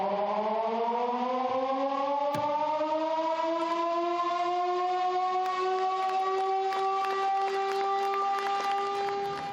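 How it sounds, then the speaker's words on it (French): An old factory siren, silent for fifty years, wails again inside the vast new glassworks hall at Meisenthal. A loud, continuous, harmonically rich tone slowly rises in pitch and holds steady, echoing throughout with no speech. "la sirène a de nouveau fait écho dans l'immense nouvelle halle verrière de Meisenthal"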